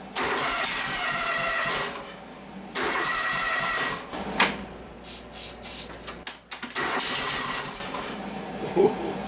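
A small 1997 Argo Conquest engine sputters to life on starting fluid in several bursts, revving and stumbling between brief pauses, then briefly holds a rough, uneven idle before faltering.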